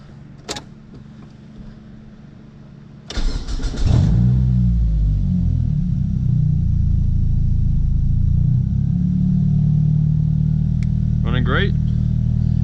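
A Mazda Protege engine, just fitted with a new timing belt, cranks briefly, fires up and settles into a loud, steady idle close by, with faint chirps near the end.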